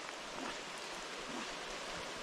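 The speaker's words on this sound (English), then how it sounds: "now it's getting really hard to tell what's what right now because this rain is getting harder" Heavy rain pours steadily onto a trout stream in northeast Pennsylvania, a dense, even hiss of drops on water blending with the flowing current, close and continuous throughout.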